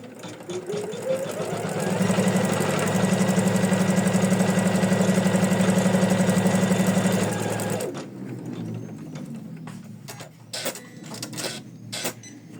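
Embroidery machine stitching a floral felt applique, a loud steady rapid mechanical whirr and clatter for about eight seconds, then stopping, followed by scattered quiet clicks and handling noises.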